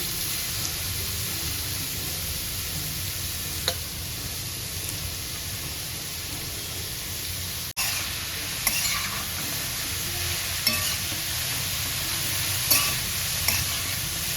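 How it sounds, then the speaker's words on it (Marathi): Grated carrots sauté in a little ghee for gajar halwa, giving a steady, close frying sizzle with occasional soft clicks of stirring throughout. "एक पाच मिनिट असंच आपल्याला तुपावर परतून घ्यायचं आहे"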